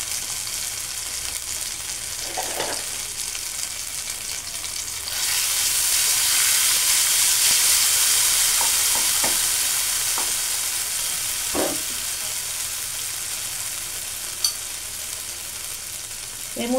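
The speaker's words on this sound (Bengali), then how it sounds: "আদাটাকে একটু নেড়ে নিয়ে" Ginger paste sizzles and fries in hot oil with cinnamon, cardamom and cloves for a vegetarian kofta curry, a steady loud hiss swelling midway, with occasional spoon scrapes against the pan.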